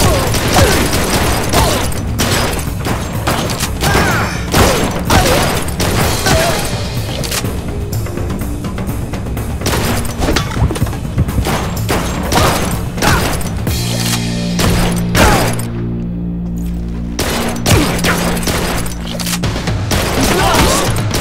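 Rapid bursts of gunfire and booming impacts from the shooter video game Blue Estate, dense and loud throughout with mechanical clatter and crashes, plus a brief quieter gap near the end.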